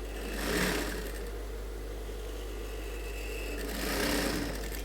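A sewing machine stitches a suit collar with a continuous, fairly quiet motor hum that swells twice, near the start and again near the end.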